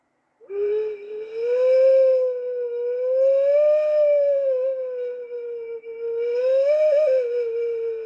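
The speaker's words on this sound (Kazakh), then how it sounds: "Даланың желіне ұқсайды, иә?" Recorded steppe wind plays alone as a steady, wavering tonal howl that rises and falls in pitch, starting abruptly and holding loud for several seconds with a slight dip partway through.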